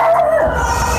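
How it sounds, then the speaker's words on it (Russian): A dog lets out a drawn-out, wavering howl that trails off into a softer whimper, close and fairly loud. "это ее собака кричит уже"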